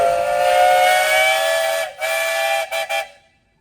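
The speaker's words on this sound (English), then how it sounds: "Do you have a whistle?" A steam whistle is blown at a threshermen's jubilee parade, one loud, long chord-like blast held for about two seconds, followed by a brief gap and three short toots.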